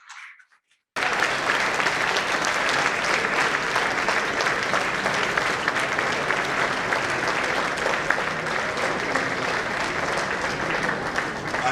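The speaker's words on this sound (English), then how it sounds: "I think that anniversary lecture deserves a resounding round of applause, please." Sustained, loud applause from a lecture audience at an anniversary memorial lecture, beginning abruptly after a brief quiet moment and continuing steadily for over ten seconds, dense and even with no talking over it.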